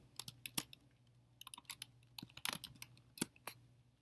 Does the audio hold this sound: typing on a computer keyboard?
yes